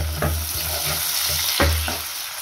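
Onion and a small chopped tomato sauté together in a pan for a mushroom curry, with a loud, steady hiss of frying broken by a few quick stirring scrapes close by.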